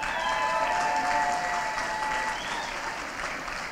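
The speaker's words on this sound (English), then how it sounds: "I think Sean Quinlan in particular deserves a huge round of applause." An audience applauds a man named Sean Quinlan at a Strictly-style dance competition winners' announcement in Silvermines, a dense, steady clapping that fills the room from start to finish, easing slightly toward the end.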